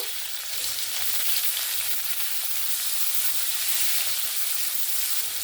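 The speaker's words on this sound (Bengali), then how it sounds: "এবার আমি এখানে পেঁয়াজ কুচি দিয়ে দেব" Chopped onion drops into hot oil already tempered with black cumin and bay leaf, giving a loud, steady, close sizzle that fills the whole stretch with no talking.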